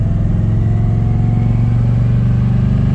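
A 1987 square body truck engine hums steadily at mid revs while driving in second gear, a loud continuous drone with no pause for a shift.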